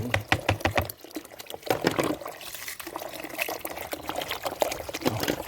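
Water is poured off red weaver ant eggs, splashing and trickling in uneven bursts with close, wet gurgles that keep running steadily.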